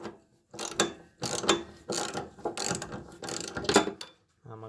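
A ratchet clicks in quick repeated bursts as bolts on the floorboard of a John Deere 4110 tractor are cracked loose, several close, loud strokes separated by short pauses.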